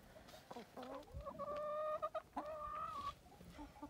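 Chickens cluck close by in a farmyard with running water during a freezing morning, giving a string of short clucks and some longer drawn-out calls, loud and mostly alone.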